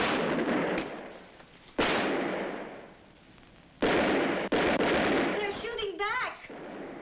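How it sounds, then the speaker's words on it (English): Gunfire in a 1956 film, with several loud broadband blasts booming at intervals and echoing, followed by a brief high whistling or ricochet-like sound near the end. "Guns. Get them into action."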